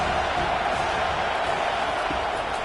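A packed stadium crowd roars without a break at a college football game between Notre Dame and Penn State, building noise behind the defense on a big third down. It forms a dense, unbroken wall of sound.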